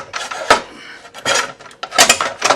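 A saw blade is pushed onto the arbor recess of a DeWalt DWS779/DWS780 miter saw, giving a few short metallic clinks and scrapes in separate bursts, close by with no talking.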